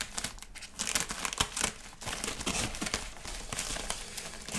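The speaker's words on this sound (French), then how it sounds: "On va essayer de l'ouvrir." A larger parcel thought to hold a small soldering iron is torn and unwrapped, giving close, busy crinkling and tearing of packaging in irregular bursts over several seconds without speech.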